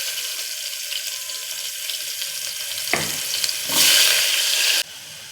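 Chopped large onions, fennel powder and curry leaves sizzle steadily in a pan, a continuous close hiss that swells louder near the end before dropping to a softer sizzle; no one speaks.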